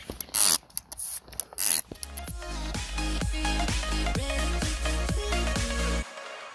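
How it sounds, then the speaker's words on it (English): A short spray hiss around a motorcycle tire valve stem while checking for leaks, two quick bursts at the start followed by a steady rhythmic mechanical whir and clicking, close and alone. "First, I'll spray around the valve stem."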